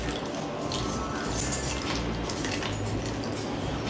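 A spoon clinks against a glass vessel while stirring sangria made with nectarines, bright metallic taps scattered over a dense, noisy background.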